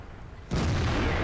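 A tank gun fires in a World of Tanks match, a sudden loud blast at mid-clip that rolls into a sustained low rumble after near-quiet background.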